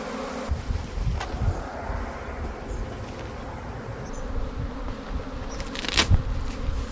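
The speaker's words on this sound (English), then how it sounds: "So you can see where the saying goes, busy as a bee. Busy as a bee, huh? You can just listen to the buzzing." Dense buzzing of many bees around a hive, a steady close swarm drone with a few louder passes as individual bees fly near, no voices.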